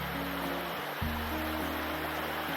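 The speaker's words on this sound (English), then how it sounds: "Check out the waterfall a bit more." Steady rushing water from a waterfall at Gunns Plains fills the clip, a constant broadband roar with a faint low hum running underneath.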